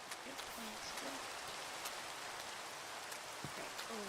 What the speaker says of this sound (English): Right, love the rain.